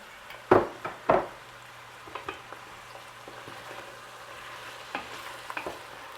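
Chopped green peppers sizzle in a pan for a salted codfish and chickpea dish, with two sharp knocks of a spoon against the pan at the start, then quieter stirring scrapes over a soft, steady frying hiss.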